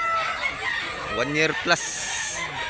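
Roosters crow at a chicken market in Mantalungon, Barili, Cebu, with one close, loud cock-a-doodle-doo rising in the middle. Someone talks briefly over a busy background of birds.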